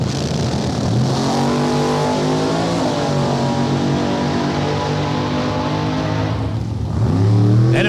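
A drag race car launches hard and accelerates down the strip, its engine a loud, sustained roar that climbs steadily in pitch through the gears and stays close and dominant throughout.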